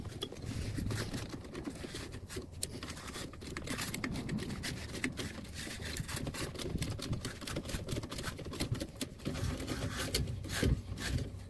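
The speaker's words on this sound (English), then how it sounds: "Then we're going to screw back in those bolts" Brake caliper bolts are screwed back in on a Fiat 500 during a brake change, producing dense, continuous close-up clicking and metallic rattling with no speech.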